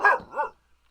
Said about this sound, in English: Now there's other dogs in the neighborhood barking